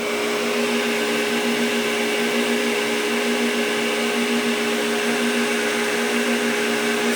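A household water pump running dry without water, giving a steady, loud mechanical whine with a constant hum throughout and no pauses.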